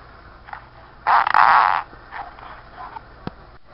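A loud, sputtering fart sound effect in a comedy cooking sketch, a single buzzy burst lasting under a second, close and alone, followed by faint scattered noises.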